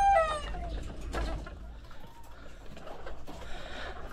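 Chickens in a backyard pen on a small Filipino poultry setup, with a few short clucks and a crow near the start, then quieter scattered fowl calls and faint rustling over low background noise.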